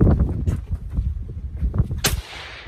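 A Faxon 11.5-inch barrel rifle fires a single sharp, loud shot near the end, preceded by low rumbling handling noise and followed by a brief echoing tail.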